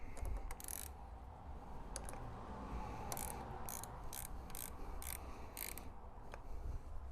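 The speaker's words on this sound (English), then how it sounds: "Put on the negative battery terminal. Tighten this down." Ratchet tightening the negative battery terminal on a 1997-2001 V6 Toyota Camry, quick bursts of close, crisp clicking under a steady background hum, with no talking.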